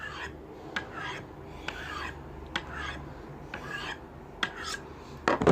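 Steel rasping against the saber-ground bevel and small secondary bevel of an ESEE 5 knife during sharpening, a series of about eight rhythmic, close scraping strokes with no talking.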